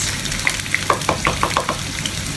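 Tuyo, dried fish, frying in cooking oil, giving a quick run of crackling pops and spits over a low background hiss, close and moderately loud.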